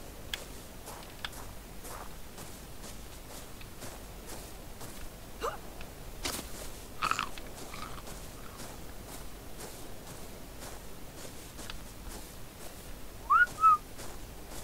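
A player character whistles briefly in Ark Survival, two short chirping whistle notes near the end, rising out of quiet ambient game sound with soft scattered footsteps and ticks beforehand.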